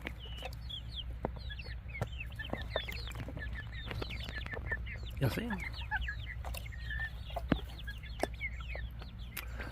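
Wyandotte chickens clucking busily and close by while pecking at green bean water in a bin, with scattered chirps throughout and a person talking briefly over them.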